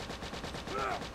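Rapid bursts of gunfire from a high-damage gun in a video game, a steady run of shots at even volume throughout with a brief tonal whine partway through.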